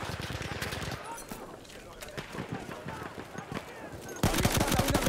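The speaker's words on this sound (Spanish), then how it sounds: "¡Avistada una ametralladora enemiga!" Rapid machine gun bursts crackle in a Battlefield 1 match, a rattling run at the start and another loud burst near the end, with scattered shots and a player talking in between.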